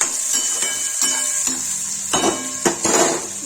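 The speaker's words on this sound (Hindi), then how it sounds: "सब्जी चला देंगे।" Onions with salt frying in a pan as a spoon stirs them, a steady sizzle broken by repeated scraping clinks of the utensil against the pan.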